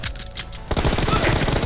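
Rapid automatic gunfire from a mobile shooting video game, a dense continuous burst that starts abruptly partway through and stays loud to the end, preceded by quieter game background.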